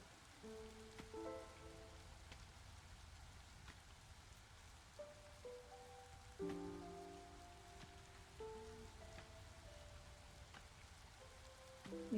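Light drizzle falling steadily on a surface during an evening storm, a soft continuous patter with scattered faint drop ticks, low and even throughout while quiet tonal music plays underneath.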